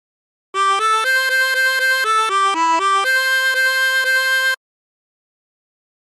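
A harmonica plays the opening phrase of She'll Be Coming Round the Mountain as clear, sustained blown notes in a steady rhythm. The notes sound close and alone, then stop into silence.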